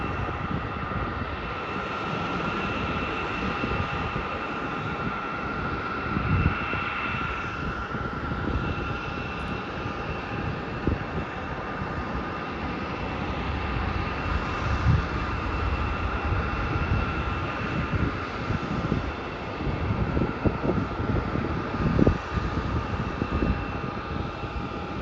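A Cathay Pacific plane takes off at Melbourne Airport, its jet engines roaring in a steady, continuous drone with a whining tone, loud and sustained for the whole stretch.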